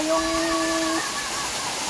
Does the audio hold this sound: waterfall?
yes